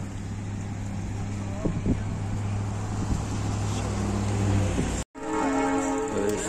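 A train rumbles steadily through Skagway, Alaska, a low continuous drone that cuts off briefly, then a loud, sustained tonal horn sounds nearby.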